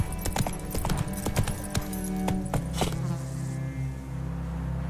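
Hooves of Roach, Geralt's horse in The Witcher 3: Wild Hunt, clop in a quick steady rhythm up close, with buzzing insects and ambient sound around them.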